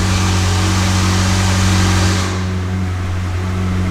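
A McLaren 720S engine with active exhaust valves drones loudly and steadily at close range, then drops to a quieter, lower idle partway through, with no talking.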